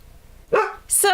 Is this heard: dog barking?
yes